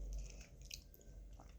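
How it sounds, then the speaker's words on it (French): Croque-monsieur flavoured Cheetos are chewed up close, a few soft, faint crunching bites in quick succession ending with one sharper click. "Maintenant, je vais goûter les Cheetos au croque-monsieur."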